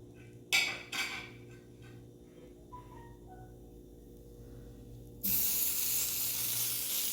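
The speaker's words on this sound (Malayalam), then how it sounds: "ആ വശം കൂടി നന്നായി മൊരിയണം, അപ്പോൾ നല്ല ടേസ്റ്റ് ഉണ്ടാവും." Tuna sandwich toasting in a pan: two sharp clattering knocks, a quiet stretch, then a loud, steady sizzle that starts abruptly and keeps hissing to the end.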